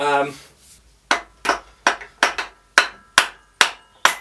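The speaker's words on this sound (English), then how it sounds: "using a rubber mallet, it's starting to move a little bit actually" A rubber mallet knocks at the Vanos unit on a BMW E36 engine during a strip-down, with about nine dull, close blows at an uneven pace after a short burst of voice at the start.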